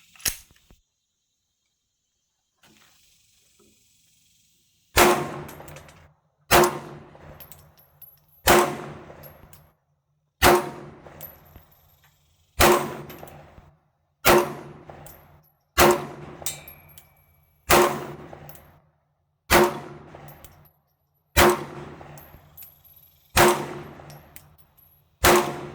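A Sig Sauer P365 X Macro pistol fires about twelve loud, sharp shots, evenly spaced roughly every one to two seconds, each with a short ringing decay, after a few seconds of near silence.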